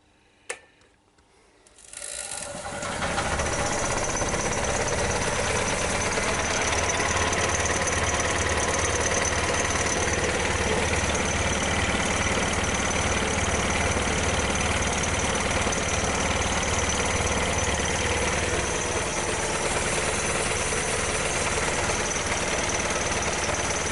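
A woodturning lathe in a shed starts up after a click and then runs continuously as a loud, steady mechanical drone with a rattling hum from fittings shaking throughout.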